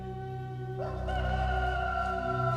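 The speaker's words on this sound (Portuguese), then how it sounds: "Imediatamente um galo cantou." A rooster crows in a dubbed 1993 Gospel of Matthew film scene, a single sustained call that swells and holds for about two seconds over a steady background hum, with no talking.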